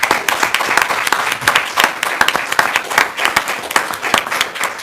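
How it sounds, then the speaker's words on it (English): A round of applause from attendees at a county board of commissioners meeting, dense steady clapping from a small room crowd that carries on for about five seconds without a break. "Let's give her a round of applause."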